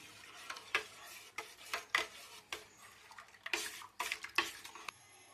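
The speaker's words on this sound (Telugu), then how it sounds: "బాగా నీట్గా కలిపేసుకున్నాం" Junnu mixture being stirred with crushed cardamom and pepper in a vessel, giving a series of close scraping, rasping strokes of the spoon at an uneven rhythm, with no talk.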